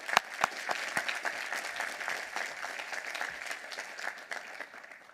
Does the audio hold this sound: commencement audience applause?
yes